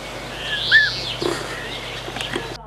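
Birds kept at a forestry station, pheasants among them, giving a single clear rising chirp against a steady background hum, with other faint calls after it.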